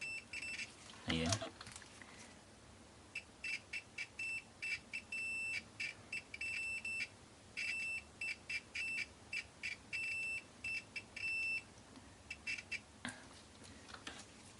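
An EX470 True RMS multimeter's continuity buzzer sounds in a series of short, irregular harsh beeps, close up, after an initial clunk, with no one talking.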